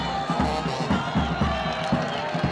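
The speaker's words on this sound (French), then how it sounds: "ils sont bien applaudis ici au stade de l'Unité" Football crowd at Stade de l'Unité in Kindu applauding a team before kickoff, steady clapping and cheering with scattered shouts throughout.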